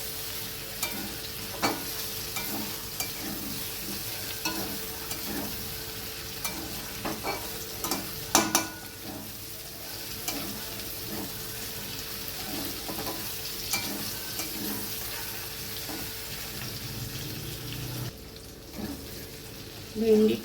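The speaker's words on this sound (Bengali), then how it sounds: "ভেন্ডিটা নাড়তে থাকবো।" Okra (bhindi) with a pinch of sugar is stirred and fried in a pan, with soft, steady sizzling and intermittent scraping of the spatula throughout, fairly quiet and close.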